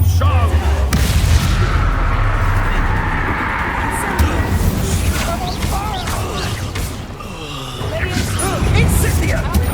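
Heavy magical blasts go off in Hogwarts Legacy gameplay as an Expulso explosion spell is cast, loud booming bursts and rumbling debris layered under a player's excited talking.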